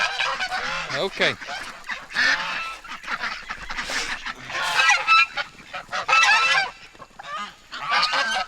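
Ducks and geese on a farm honk and quack at feeding time, a busy, loud chorus of overlapping calls running through the whole stretch, with a brief spoken word near the end.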